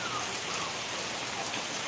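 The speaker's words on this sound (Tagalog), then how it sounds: "Maulan. Masabaw." Steady rain pours in Bicol, Philippines, making an even, continuous hiss with no gaps and no voices.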